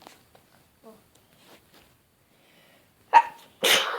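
A person sneezes close by in a quiet room during a Bulgarian gaming session: a sharp inhaled catch followed by a loud, breathy burst after faint scattered noises.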